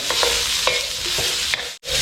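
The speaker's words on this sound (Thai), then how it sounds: "ผัดพริกกับหอมใหญ่เนี่ย ให้พอสนุกให้มีกลิ่นหอมขึ้นมาก่อนนะฮะ" Peppers and onions stir-fried in a hot wok, with a steady bright sizzle and repeated scraping strokes of a spatula, close and continuous, then a brief pause.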